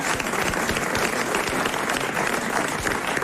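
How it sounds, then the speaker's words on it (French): Television studio audience applauding a game-show winner, steady dense clapping at an even level throughout the short stretch. "qu'on va applaudir"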